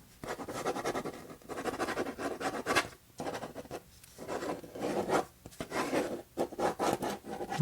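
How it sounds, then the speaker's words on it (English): A pen or marker scratches and rubs across cardboard while sketching a travel route, close and intimate strokes in uneven bursts with short pauses between them, no voices. "Just going to start sketching the route here."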